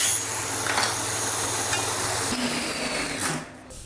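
A power saw cutting through pallet wood, producing a continuous close, loud whirring hiss with a steady low hum that drops away abruptly at the end as the cut finishes.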